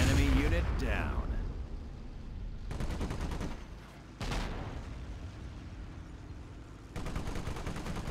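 Dense gunfire and artillery in Company of Heroes rattle in rapid bursts, with a loud explosive blast near the start and further crackling volleys later, sustained and close, with a voice talking over the battle.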